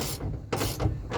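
A ratchet wrench cranks down a bolt on a Camry switch panel mock-up, giving three or four quick clicking bursts with brief pauses between strokes, close and clear.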